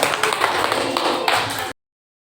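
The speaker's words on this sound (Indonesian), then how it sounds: "Kita tepuk tangan." A class of young pupils clapping together in a primary school Islamic studies lesson, a short burst of mixed claps and taps with voices, ending abruptly.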